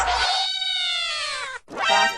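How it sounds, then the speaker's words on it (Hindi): A cartoon cat gives two drawn-out, high meows in quick succession, close and clear, the second shorter, with no talking. "रास्ते में बिल्ली कैसे आ गई?"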